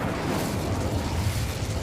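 The Incendio fire spell is cast in Hogwarts Legacy, a dense roaring burst of flame and rumble that fills the whole moment loudly without letup.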